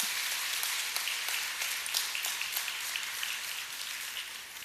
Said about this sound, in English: Can we get another round of applause for the governor and all our speakers?